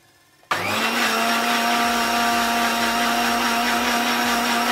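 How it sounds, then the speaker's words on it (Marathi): A mixer grinder with a juicer jar starts abruptly after a moment of quiet, then whirs loud and steady as it grinds dal and vegetables to a fine paste for soup. "अगदी बारीक वाटायचं आहे आपल्याला मिक्सरला"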